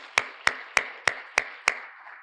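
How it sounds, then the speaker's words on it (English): A lone pair of hands clapping six times at an even, steady pace during a school district's State of the District address, each clap sharp and close, with a quiet room in between. "allow us to thank you with a round of applause"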